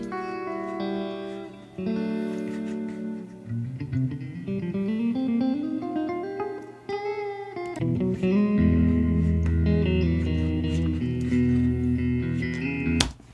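An amplified clean electric guitar recorded with a 421 microphone plays strummed chords and a climbing melodic run, ending on thick, sustained low chords.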